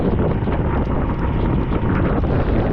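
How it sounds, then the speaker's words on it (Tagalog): Strong wind roars loudly across the microphone without a break, a dense buffeting rush with no voices. "Sa lakas ng hangin."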